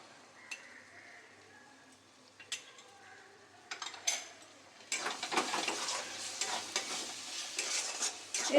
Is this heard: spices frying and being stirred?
yes